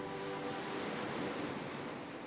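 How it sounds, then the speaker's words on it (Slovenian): Ocean waves roll in with wind, a loud continuous broadband wash of surf that stays steady and unbroken throughout, with no voices. "Slišiš valove, potoček, ptice, veter in oddaljene palme."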